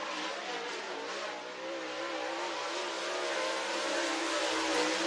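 A race car runs a qualifying lap at North Georgia Speedway, its engine a continuous distant roar that swells gradually as it travels around the track.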